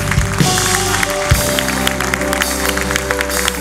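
Church congregation applauding during a sermon, a loud burst of clapping and crowd noise over a sustained musical backdrop of organ or keyboard, close and full.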